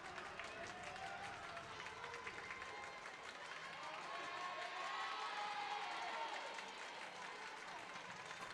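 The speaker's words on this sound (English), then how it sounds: "Crowd getting some energy for the Quakers." Volleyball crowd at a college tournament match, a sustained distant roar of cheering and clapping in an indoor gym, steady and moderately faint, with a voice rising briefly in the middle.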